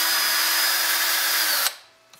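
A regular handheld power drill spinning a rod gripped in its chuck, loud and close with a steady high whine that winds down abruptly and fades out.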